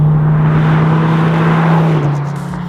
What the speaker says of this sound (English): given its V10 power plant, even at partial throttle, this thing gets up and goes